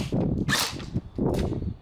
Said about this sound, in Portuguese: como funciona aqui o blowback dela na janela de ejeção